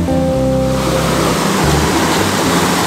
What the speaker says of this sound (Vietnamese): dòng suối đang chảy rất là đẹp luôn